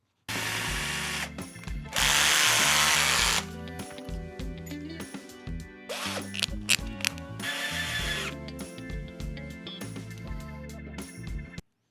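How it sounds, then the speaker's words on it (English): A power drill bores through a snapped bolt on a motorcycle, running in loud close bursts with starts, stops and changes in speed, and sharp high whines between spells of grinding. "The next step is to drill it all through."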